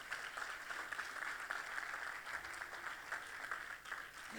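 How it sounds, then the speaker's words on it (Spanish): A church congregation applauds during a sermon, producing a steady, even wash of clapping that sounds faint and somewhat distant. It continues unbroken for the whole stretch, with no voice over it. "Dale ese aplauso fuerte al Señor"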